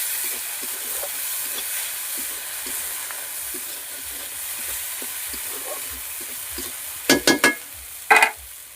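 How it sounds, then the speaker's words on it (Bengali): Spices with salt, turmeric powder, dried red chilli and green chillies sizzle steadily in a hot pan under soft, repeated stirring scrapes, with a few louder utensil clanks near the end. "ভালো করে মশলাটা কষিয়ে নিচ্ছি।"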